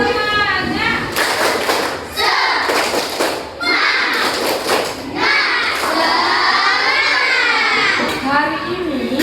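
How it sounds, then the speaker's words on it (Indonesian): Schoolchildren in a classroom clap a rhythmic spirit cheer in bursts, loud and close, mixed with chanting voices and a teacher speaking between rounds. "Terus sekali lagi, biar makin semangat."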